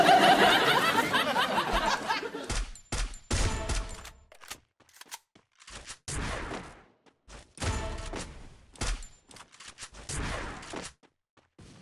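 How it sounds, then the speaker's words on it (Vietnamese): Video game gunfire inside a house, bursts of rapid shots and clattering impacts coming in irregular clusters, with a voice commenting between and over them. "trong nhà đang bắn nhau"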